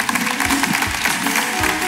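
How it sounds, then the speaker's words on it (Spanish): Short burst of audience applause in a television studio, dense and fairly loud, with scattered cheers. "Un aplauso para ella."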